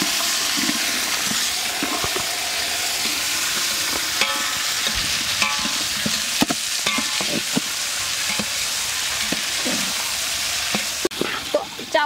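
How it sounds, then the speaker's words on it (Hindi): Peas and cashews frying in a pan with cumin and bay leaf, a loud continuous sizzle with intermittent stirring scrapes and clinks of a spoon, close up and without talk. "तो काजू डालने के बाद इसमें डाल देते हैं मटर।"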